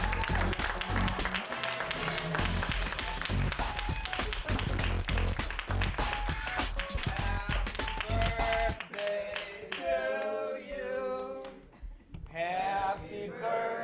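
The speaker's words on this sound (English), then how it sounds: "A big round of applause for Seth Davis." Comedy club audience giving a loud round of applause as a comedian is brought to the stage, steady dense clapping that later gives way to a group singing.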